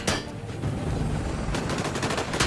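Gunfire in the video game Disintegration crackles in rapid, dense bursts, a sustained volley of shots that sharpens into distinct cracks toward the end, loud and without talk.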